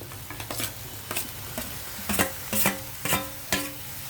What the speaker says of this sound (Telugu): అయితే ఇప్పుడు మనం దోసకాయ ముక్కలు వేసేద్దాం